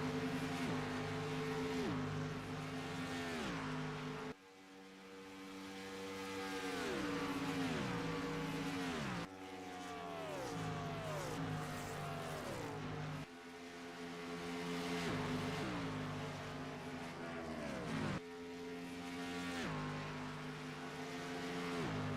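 Race cars in a HORL Showdown Series race at Indianapolis Motor Speedway pass in repeated waves, engines whining and dropping in pitch as each pack sweeps by, the loud drone recurring every few seconds.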